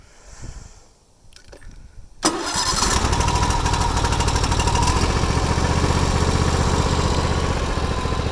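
A small engine is hand-cranked with a few low pulls, then catches with a sharp burst and settles into a loud, steady, buzzing run, close up.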